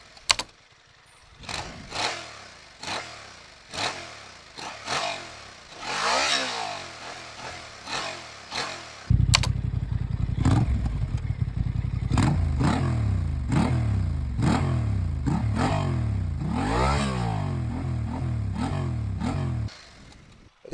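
A motorcycle engine is started and its throttle is revved repeatedly, each blip rising and falling in pitch, then settling into loud, rapid, close-up revving bursts over a steady idle.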